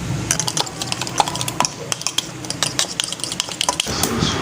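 A utensil stirs chicken corn soup seasoned with chaat masala in a pot, giving rapid, irregular clinks and scrapes against the metal, close up and with no talking.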